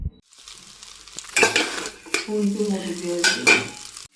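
Egg chowmein is stir-fried in a pan with sharp, irregular bursts of sizzling and scraping as the noodles are tossed, separated by brief pauses and clinks of the utensil against the pan.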